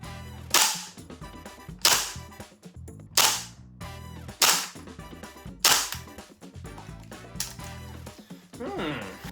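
Sharp semi-automatic shots from a TM Type 89 gas rifle, about six spaced reports roughly every second, each a crisp loud crack with a short metallic tail, followed by a faint rattle.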